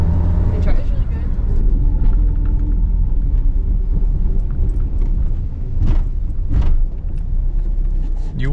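A Nissan 240SX with an SR20DET engine drives along, its cabin filled with a loud, steady low rumble of engine and road noise while people talk inside.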